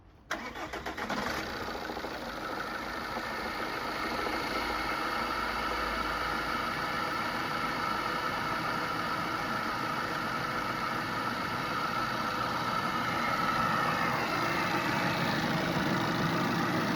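A rebuilt Alfa Romeo engine cranks and catches on its first start, then settles into a steady, throaty idle that holds loud and even throughout.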